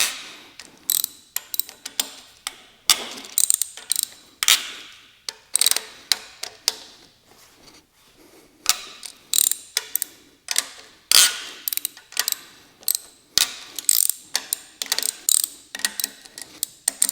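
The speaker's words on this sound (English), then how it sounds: "I prefer to break them loose with a ratchet first" Ratchet loosening bolts on a Honda K20 engine during a teardown, crisp rapid clicking bursts repeated in short strokes with brief pauses between, close and loud.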